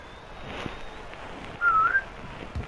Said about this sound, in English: the whistle blows on the backcourt violation